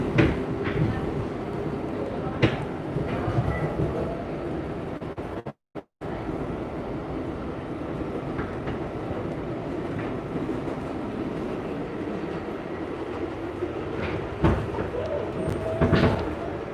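A New York City subway train rumbles along the rails between the Bronx and Yonkers with a steady roar and occasional clicks and clacks, heard from inside the carriage, loud and continuous.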